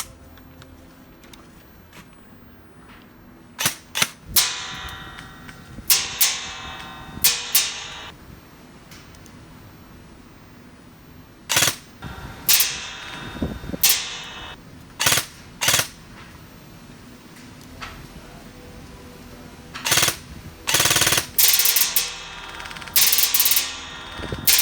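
A custom ASG CZ Scorpion Evo 3 A1 airsoft gun with a cut-down 147mm inner barrel fires in bursts and short strings of sharp mechanical cracks, several separate volleys with quiet gaps between, close and crisp.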